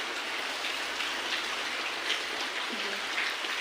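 Steady rain pours down over a terrace in Gujarat, a dense, even hiss of drops close by that holds constant throughout with no voices.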